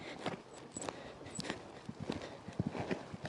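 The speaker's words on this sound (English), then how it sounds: "I'm just going to ride this line in my schooling canter" Hooves of a horse in a schooling canter on a jumping line in a riding ring, a steady three-beat rhythm of close thuds and scuffs in the footing with faint jingling tack.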